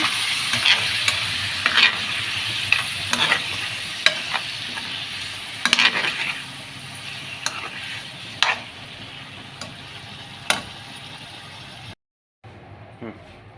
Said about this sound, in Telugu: ఇప్పుడైతే రొయ్యలు అయితే వేస్తున్నాము ఇదైతే రొయ్యల కూర అనమాట